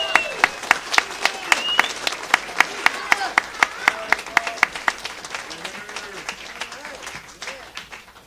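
An audience claps in a burst of rapid, dense applause that swells and then fades over several seconds, with a few voices mixed in.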